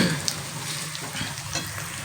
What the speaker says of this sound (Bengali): একটু লাল লাল করে ভাজা হয়ে গেছে, একটু নরম নরম হয়ে গেছে পেঁয়াজটা, লঙ্কাগুলো ভাজা হয়ে গেছে